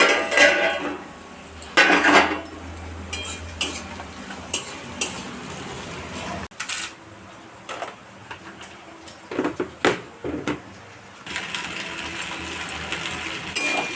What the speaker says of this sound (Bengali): এখানে সবজিগুলো ভাজতে বসিয়ে দিয়েছি